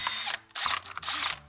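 A step drill bit cuts through a plastic hummingbird feeder in three short, loud grinding bursts separated by brief gaps, close up with no talk.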